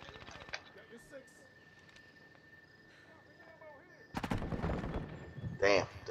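Booming mortar impacts in the shooter game Call of Duty: Modern Warfare II erupt as heavy, rumbling blasts, with a sharper burst following. Faint game sounds and talking come before them.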